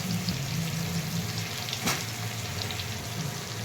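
Ridge gourd pieces and spice masala sautéing in a pan give a steady, close sizzle with soft frying crackle throughout and a brief louder stir near the middle.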